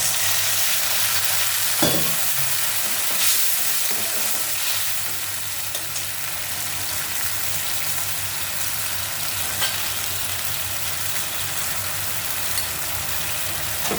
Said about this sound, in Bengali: এই যে দেখুন আমি একটু জল দিয়ে দিলাম একটু